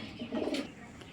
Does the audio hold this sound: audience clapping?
no